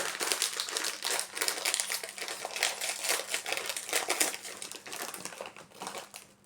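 A milk chocolate OREO Bites wrapper is torn open up close, giving loud, continuous plastic crinkling and crackling in irregular bursts with no voice over it.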